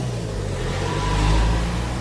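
A 110cc pit bike engine runs close by, a steady buzzing drone that swells briefly as it revs, then eases back slightly, heard alone.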